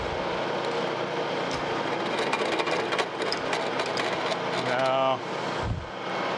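A milling machine cuts crosshead journals for a steam stoker engine restoration, giving a steady grinding machine drone with a chattering, bouncing cutter and a brief tonal whine near the end; someone says a word.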